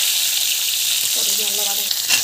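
Onions sizzle and fry steadily in a pan while sambar is made, a close, continuous crackle with a brief soft voice partway through.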